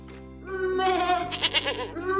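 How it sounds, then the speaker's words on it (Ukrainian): A goat bleats loudly and close, one long wavering cry with a shaky vibrato, over a low steady background hum. "Ось така у нас красива коза."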